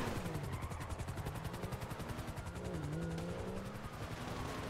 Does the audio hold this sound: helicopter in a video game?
yes